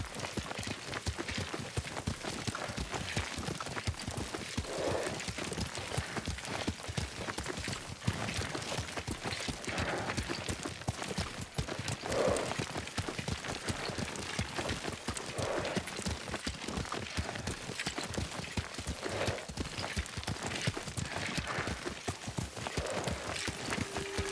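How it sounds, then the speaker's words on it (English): Rhythmic hoofbeats of a horse being ridden at a steady pace in the video game Ghost of Tsushima, clip-clopping continuously throughout with faint background ambience. "Lord Sakai taught me to ride a horse"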